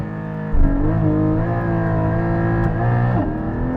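A Porsche Cayman GT4 launches hard, its engine snapping up to a loud, sustained high rev that wavers and holds before easing off near the end.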